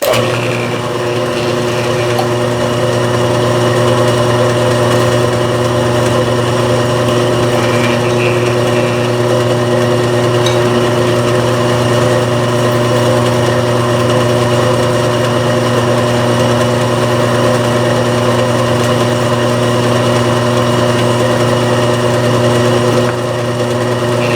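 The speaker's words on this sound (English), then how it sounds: "now we're going to drill a hole right through this" An electric drill runs continuously with a steady, droning motor hum that holds an even pitch and loudness throughout, with no voices.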